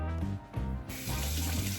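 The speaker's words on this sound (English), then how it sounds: "You put this DE under some heated water" Hot water runs from a tap while a double-edge safety razor is rinsed under it, a steady splashing stream that changes tone and briefly dips as the razor moves through the flow.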